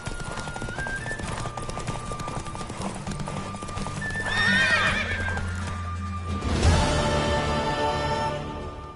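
Horse hooves clip-clopping at a gallop in The Witcher 3, a steady rhythmic beat under game music, with a horse whinnying loudly midway and again near the end.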